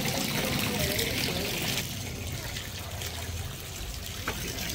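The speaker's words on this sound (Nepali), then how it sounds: "तिनवटा ढुङ्गे धारा पुरा बगेको रहेछ" Water from three traditional stone spouts in Kathmandu, at Patan in Lalitpur, runs in a steady splashing trickle, close and continuous, without talk.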